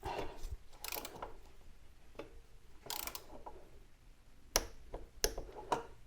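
Ratchet wrench with a 10 mm socket tightening bolts on a motorcycle during a tire change, heard as faint, close clicking bursts and metallic ticks in short irregular strokes against a quiet background.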